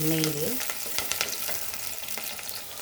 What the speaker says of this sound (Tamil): எண்ணெயிலே நல்லா வதங்கிடுச்சு வெங்காயம்.